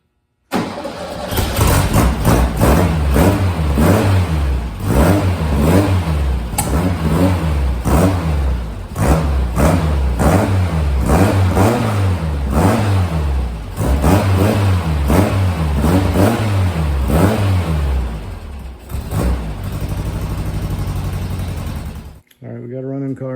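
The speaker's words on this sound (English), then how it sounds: "we got a running car again" A car engine fitted with Weber carburetors in place of the original Kadrons runs loudly and steadily, with repeated revving surges that rise and fall in pitch before cutting off abruptly near the end.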